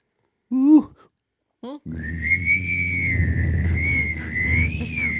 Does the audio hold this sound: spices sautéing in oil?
no